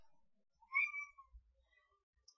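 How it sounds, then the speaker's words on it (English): A pet cat gives a single soft meow, clear and fairly close, in an otherwise quiet room with a brief faint click afterward. "my kitty's saying hello"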